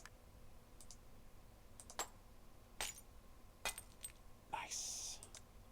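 In the hidden-object game New York Mysteries: Secrets of the Mafia, a key is picked up with a series of soft, quiet clicks and a brief bright metallic jingle near the end.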